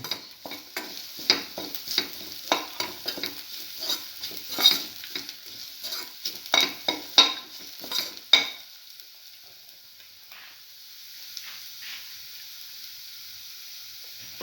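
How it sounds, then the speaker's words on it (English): Ingredients for a cinnamon mint egg stew sautéing in a frying pan, stirred with a utensil: a soft hiss under repeated scraping and clinking strokes, then the stirring stops and a faint sizzle carries on alone. "Thoroughly sauteing it."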